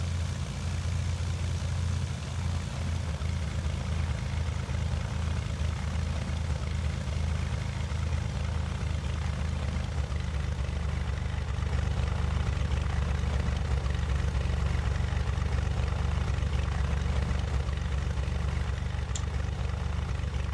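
Steady, continuous engine drone of an airplane taxiing to parking in the FsPassengers flight simulator, a constant low rumble held without break, with no talking.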